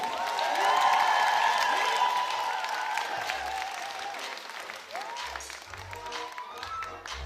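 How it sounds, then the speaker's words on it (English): A large crowd applauds and cheers loudly, with whoops and shouts over the clapping, gradually thinning toward the end. "Once again, please make some noise for Archie and Bravo."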